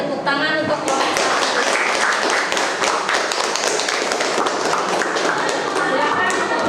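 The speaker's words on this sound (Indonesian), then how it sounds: "Kita kasih tepuk tangan untuk kelompok 1." A classroom audience claps for a student group that has just finished presenting. Dense, close, steady applause of many hands runs throughout.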